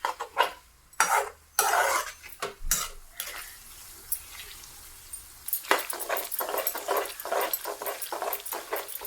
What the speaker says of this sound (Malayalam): പെട്ടെന്ന് കരിഞ്ഞു പോകാൻ സാധ്യതയുള്ളത് കൊണ്ട് നന്നായിട്ട് ഇളക്കിക്കൊണ്ടിരിക്കണേ നമ്മൾ